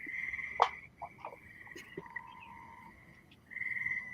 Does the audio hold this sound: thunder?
no